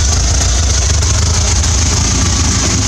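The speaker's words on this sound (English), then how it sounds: "It's running about 800 or so RPM." A carburetted engine with a sticking carb jet and new exhaust rubbers idles at around 800 RPM, a loud, close, steady low rumble with no talk.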